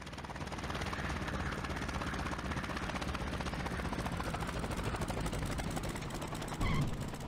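A World War II aircraft sets down on a runway in IL-2 Sturmovik, its propeller engine a steady, loud drone throughout, with a brief thump near the end.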